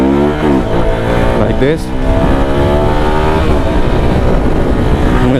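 A motorcycle engine revs hard through gear shifts while riding a wheelie, its rising pitch dropping briefly at each change before climbing again, loud and close. Someone speaks briefly over the engine.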